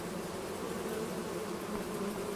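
Steady dense buzzing of bees swarming around a bee farm in Farming Simulator 25, a continuous close drone with no pauses and no talk.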